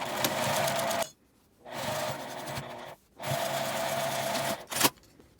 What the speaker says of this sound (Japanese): 返し口の印のところから返し縫いして縫い始めます